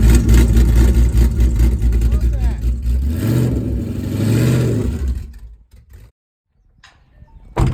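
A 2014 Shelby GT500 with aftermarket cams and stock boost revving on a dyno, a loud rising engine note that swells, peaks and cuts off into near silence, then a short burst returns at the end.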